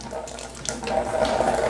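Water runs and splashes steadily from a reverse osmosis water filter for shrimp tanks as it begins draining, a close, continuous trickling flow with no voices.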